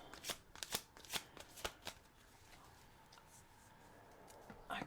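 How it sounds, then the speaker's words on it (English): Tarot cards riffle and shuffle in quick bursts, crisp and close, then settle into a quieter steady rustle before another brief flurry. "I kind of want to do one more good shuffle."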